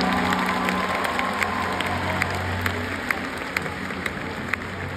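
Concert audience applauding in a large arena, a steady wash of clapping with scattered louder claps over a sustained musical tone, moderately loud throughout.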